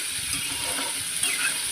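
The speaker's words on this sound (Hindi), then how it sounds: "देखिए अभी हम फ्राई कर रहे हैं" Potatoes for sabudana bhujia fry over low heat in a pan, giving a steady, close sizzling hiss with a few faint scrapes of stirring and no voices.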